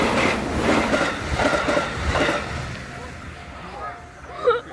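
A train passes through a forest in Japan, its broad rumble loud and near for a couple of seconds before fading, with voices talking over it and birds chirping faintly at the end.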